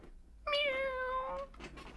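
A single drawn-out cat meow used as a livestream super chat sound effect, clear and tonal, lasting about a second and standing alone against a quiet background.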